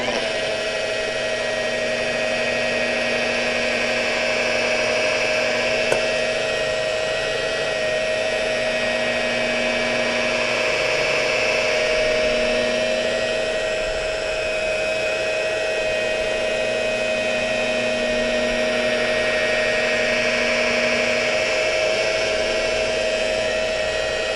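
Rotary polisher at about 1200 RPM running a foam pad with compound over the clear coat on a plastic bumper, a steady, droning machine whine that holds constant throughout.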